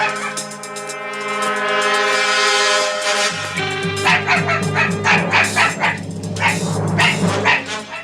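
A dog barks repeatedly in sharp bursts over a steady droning tone, close and fairly loud, with no talking.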